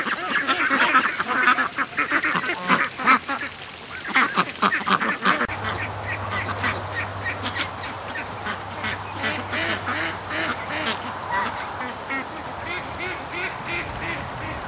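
Ducks quacking from the far end of a lake, a busy run of calls that sounds distant, with a person talking over them throughout.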